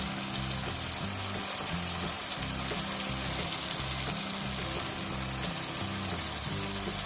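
Tomato and brain masala frying in oil in a pan as spices go in, a continuous close sizzle and hiss that stays fairly even throughout with no talk.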